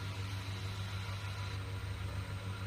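A Swaraj tractor fitted with a new engine, started for the first time, idles steadily with a low, even diesel rumble and a faint high whine over it, running alone without talk.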